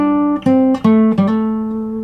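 An acoustic guitar riff plays alone: a few plucked notes sliding between pitches, each attack ringing on and fading into the next.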